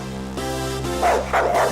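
A dog yips and whimpers in a few short, close bursts over a steady tonal music bed.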